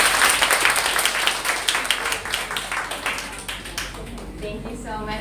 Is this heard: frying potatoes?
no